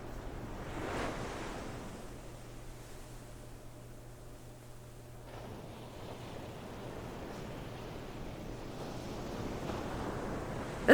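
Ocean waves in a beach music video wash and hiss in a broad, soft roar that stays faint and fairly distant, swelling slightly near the end with some wind noise.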